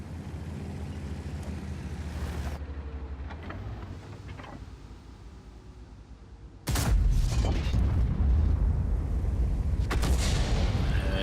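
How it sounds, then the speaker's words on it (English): A World of Tanks artillery shell strikes hard, a sudden heavy boom after a low rumbling engine and ambient bed, then a loud dense roar of blast and debris sustained for several seconds with sharp cracks inside it. "Artillery's got me."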